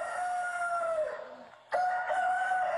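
A rooster crows twice over a loudspeaker at an outdoor campaign rally in Maracay, Aragua, Venezuela. Each call is a loud, drawn-out cock-a-doodle-doo, separated by a short break.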